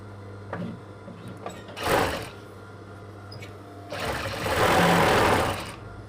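A sewing machine stitches the side seams of a corset made with skin illusion net, running in two bursts, a short one and then a longer steady run, close by against a low constant hum.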